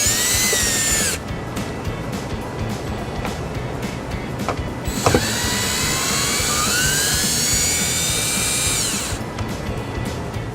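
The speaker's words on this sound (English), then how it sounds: "I'll just take our electric drill, an 8mm socket, unscrew these." A power drill with an 8mm socket whirs in long high-pitched runs unscrewing screws on a 2015 Ford Escape, spinning up and winding down twice with a brief pause between, loud and close.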